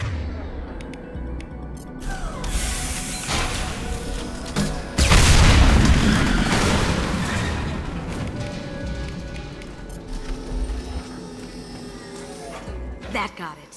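Fuel tanks blow up in the Mass Effect video game with a heavy booming blast that swells and rumbles over a noisy combat soundscape while voices talk.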